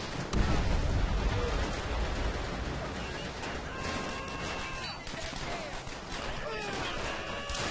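Dense, continuous gunfire in the World War II shooter World at War, a heavy firefight with overlapping rapid shots and crashes held at a steady loud level for the whole stretch.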